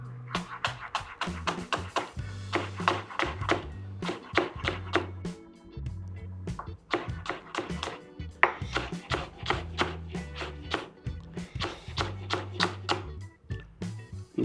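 A knife chops leek on a board for a whole lentil hummus dish, a fast steady run of sharp close taps in quick bursts with brief pauses.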